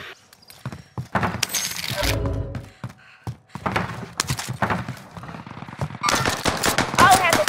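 Call of Duty Modern Warfare gunfire: loud automatic bursts and sharp single shots crack in uneven clusters, with brief pauses and other in-game thuds between volleys.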